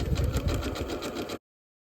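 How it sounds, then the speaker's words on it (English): A sewing machine stitches around an appliqué in a rapid, even mechanical whir with a steady needle rhythm, running close and alone for over a second before stopping abruptly. "keep your thread over here and start sewing"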